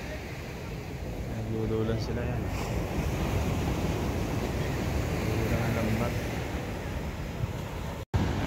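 Big ocean waves break on a beach where fishing boats are being readied, giving a steady, loud roar of surf and wind throughout while someone talks over it.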